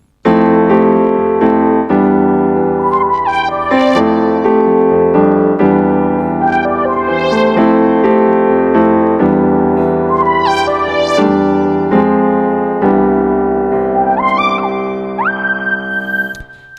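Piano voice on a Yamaha MX61 synthesizer keyboard, turned up louder, plays a flowing run of chords and melody with clear struck notes, steady and close.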